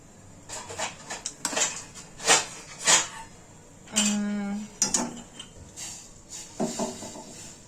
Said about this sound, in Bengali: একটু কফি বানাচ্ছি